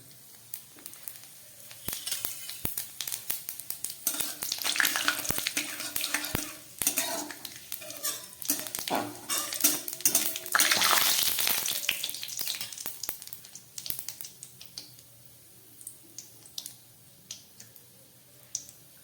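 Bay leaves, two pieces of dried chili and whole cumin crackle and sizzle in hot mustard oil, with irregular clinks and scrapes of a stirring utensil against the pan, rising to a louder burst midway before settling.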